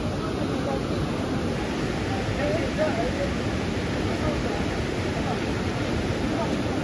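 A waterfall roars as a steady, broad rush of falling water that stays loud and unbroken from start to finish.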